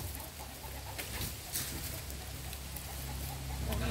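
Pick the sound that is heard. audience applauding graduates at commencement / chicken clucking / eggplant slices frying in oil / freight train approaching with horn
chicken clucking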